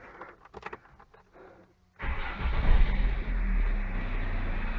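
A car engine cranking and catching after a few faint clicks, then settling into a steady idle hum up close.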